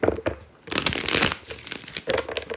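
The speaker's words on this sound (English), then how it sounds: "1 more shuffle, we're ready" Tarot cards riffled and bridged close up, a dense papery flutter in several bursts, with brief pauses between them.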